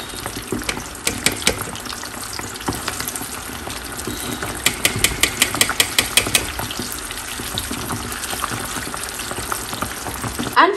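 Floured chicken wings sizzle in oil over medium heat, a steady crackling hiss with bursts of sharper popping spatters in the middle, close and fairly loud, with no voice.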